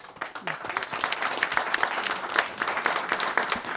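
A parish audience on a talent show in Châteauneuf breaks into applause after a testimony, a busy, continuous wash of clapping at moderate loudness with a few louder individual claps standing out.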